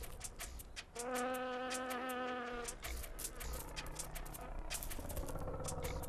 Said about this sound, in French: Voici une guêpe solitaire, une amophile.